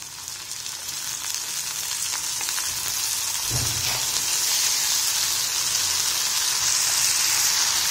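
Ginger garlic paste sizzles and fries steadily in a hot pan for samosa mutton kheema filling, a continuous bright hiss with a brief stir or clatter midway, close and loud with no talk.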